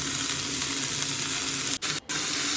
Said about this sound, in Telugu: అల్లం వేసుకుని అల్లం పచ్చివాసన పోయేంత వరకు వేయించుకోవాలి